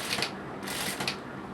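A sewing machine stitching a kurti neckline gives a faint, brief mechanical clatter with a few quick ticking bursts.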